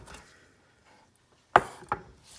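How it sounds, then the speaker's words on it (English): A knife roughly chopping kale on a cutting board, two sharp close cuts a moment apart after a quiet stretch with faint rustling. "I just want to roughly chop it"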